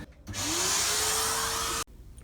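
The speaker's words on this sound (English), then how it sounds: "so having to use that vacuum cleaner instead" A vacuum cleaner switches on and roars steadily while cleaning a computer CPU heatsink, its motor whine rising in pitch as it spins up, then cuts off abruptly.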